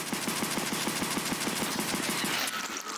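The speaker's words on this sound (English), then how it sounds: "you can shoot some bullets" Rapid automatic gunfire from a video game aim-training range, a steady fast burst of shots loud and continuous for about two and a half seconds before trailing off.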